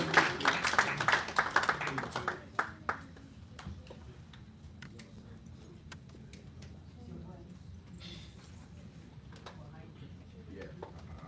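An audience at a Nigerian film and TV summit breaks into a short burst of clapping that fades within a few seconds, leaving room murmur and a speaker's voice.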